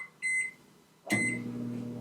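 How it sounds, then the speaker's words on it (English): Two short electronic beeps sound, then a microwave oven starts up with a steady low hum, cooking macaroni and cheese in a mug. "So we're going to stick it in the microwave."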